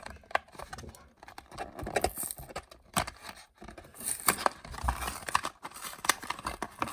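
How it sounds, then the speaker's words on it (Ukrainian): Cardboard and plastic blister packaging for a Hot Wheels Porsche 911 toy car is torn open nearby, giving irregular ripping, crinkling and snapping bursts with brief pauses between them and no speech. "Розриваємо, розриваємо."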